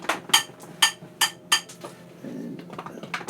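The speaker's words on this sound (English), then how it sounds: "I'm going to roll 3 dice, 3 hammers." Three dice rolled in the Underworlds Nightvault tabletop game: a series of sharp clattering clicks and taps, several distinct hits close together, then quieter rattles.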